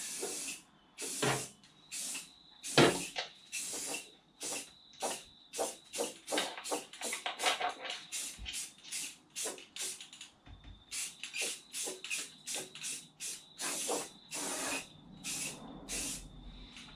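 Repeated bursts of spray paint hiss as a final coat goes onto a rusted motorhome bonnet, short rhythmic blasts with brief pauses, close and fairly loud, no talking.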